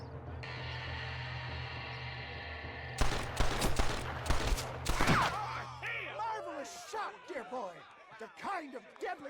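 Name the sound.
gunfire in video game Red Dead Redemption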